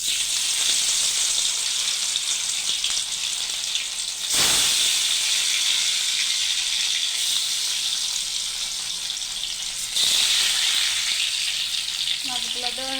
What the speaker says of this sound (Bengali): মাছগুলো দেওয়া হয়ে গেছে, এখন সুন্দরভাবে ভেজে নেব